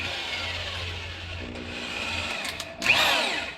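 A power drill boring a hole all the way through during an on-board air system install on a Jeep YJ: a close, whirring motor whine that surges and bites near the end.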